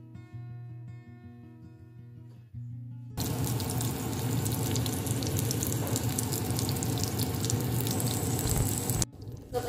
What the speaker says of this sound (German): So, und die kommen jetzt in die Pfanne.